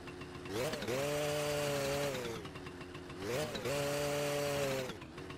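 A small motorbike engine in the video game My Summer Car 2 revs up twice, each time climbing in pitch into a buzzy, chainsaw-like drone before dropping back.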